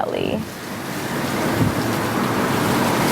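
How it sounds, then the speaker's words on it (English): Strong wind blowing outdoors on Maui, a steady, loud broadband rush with low gusty rumble against the microphone, continuous throughout with no other clear sounds. "It's quite windy here in Maui today."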